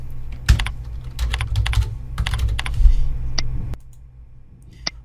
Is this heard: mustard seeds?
no